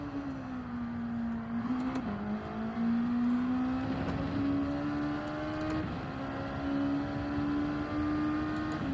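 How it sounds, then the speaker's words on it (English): A racing car engine in Gran Turismo 7 holds a steady droning tone on a hilly, twisty time trial, pitch rising and dipping with shifts and corners, continuous and fairly quiet with no talk. "this car is too loud"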